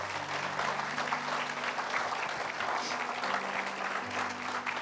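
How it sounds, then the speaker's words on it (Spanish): Congregation applause during an evangelical Bible teaching service on the Gospel of Luke, a steady dense wash of clapping filling the whole stretch at moderate level, with sustained musical tones, likely keyboard, underneath. "Vamos a darle un aplauso al Señor"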